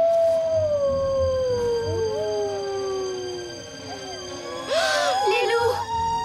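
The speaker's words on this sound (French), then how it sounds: "Les loups! Les loups, fichons le camp d'ici." Wolves howling in an animated Yakari cartoon, long sliding wails overlapping at moderate distance, with a voice speaking over them near the end.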